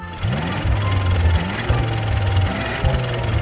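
An engine is revved in short bursts, throaty pitch climbing and falling in three or four surges with brief dips between, close and fairly loud.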